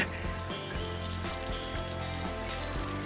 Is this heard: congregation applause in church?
no